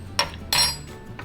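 A spoon clinking on a dish while it scoops up a strawberry, two short, bright metallic taps close by and a faint third tap at the end.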